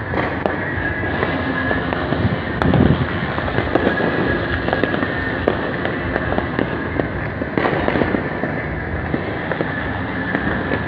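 New Year fireworks pop and crackle continuously, with dense bursts and a few louder bangs over a steady roar of distant explosions.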